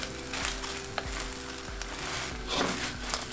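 Pork sizzling in sweet and sour sauce in a pan over high heat, a loud steady frying hiss with occasional sharper crackles and stirring scrapes, close up and without speech.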